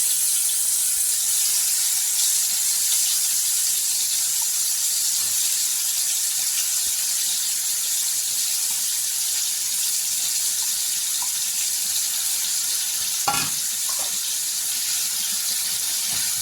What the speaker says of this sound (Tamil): ஒவ்வொரு பன்னீராக எடுத்து இதில் போட்டுக்கலாம் இப்போ இதை ரெண்டு பக்கமும் எல்லா பக்கமும் திருப்பி விட்டு திருப்பி விட்டு இதை ஃப்ரை பண்ணி எடுத்துக்கலாம்